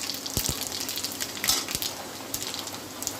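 Panch phoron spices frying in hot oil at close range, a steady sizzle broken by sharp, scattered crackles and pops.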